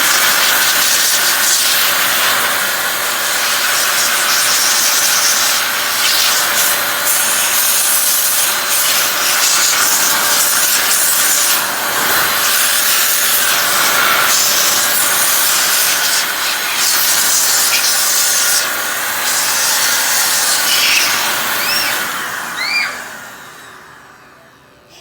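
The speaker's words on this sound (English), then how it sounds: "So, electric duster." An electric duster blows a steady, loud, continuous hiss of air across aquarium lights to clear sanding dust, running unbroken for over twenty seconds before tailing off at the end.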